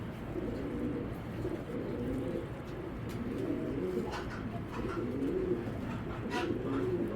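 Racing pigeons of a Janssen bloodline coo softly and repeatedly at close range, a low continuous murmuring layered with a few faint chirps over steady background noise.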